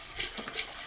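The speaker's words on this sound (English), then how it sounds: "So we want to mix this so it's nice and smooth." A spoon stirs thick cheese sauce for mac and cheese with tteokbokki in a pot on an induction cooktop that has been switched off, giving a few close, soft scraping strokes in a steady rhythm.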